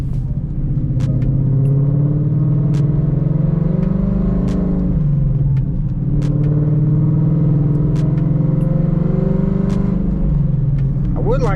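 A 2015 Ford Mustang rolls along a cold, snowy road at 23 degrees, its engine a steady low rumble with mild swells. The drone holds close and continuous throughout, and a voice talks over it.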